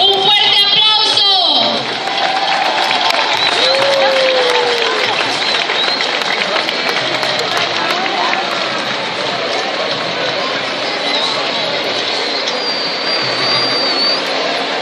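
An outdoor crowd at the Festival de la Luz in Naranjo applauds festival honorees. A long, steady wash of clapping and crowd noise continues at an even, fairly loud level, with brief voices near the start.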